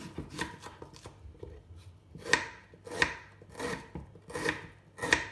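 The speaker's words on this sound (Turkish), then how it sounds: "Öncelikle şöyle orta boy bir kuru soğanımı yemeklik doğramayla başlıyorum." A knife chops a medium yellow onion on a cutting board in a home kitchen, a series of crisp, close taps in an irregular rhythm with a few louder strikes, with no talking.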